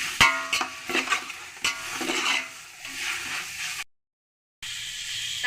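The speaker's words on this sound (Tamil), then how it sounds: "நல்லா வதக்கிக்கோங்க." Mint and coriander leaves sautéing in a pan, soft sizzling under repeated stirring scrapes and taps of a spoon, close up, with a brief silent gap near the end before the frying resumes.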